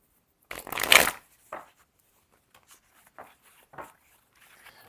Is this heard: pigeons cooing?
no